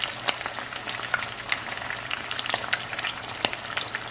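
Beef tacos fry crisply in hot oil, a steady close crackle and sizzle with scattered sharp pops throughout, no voices.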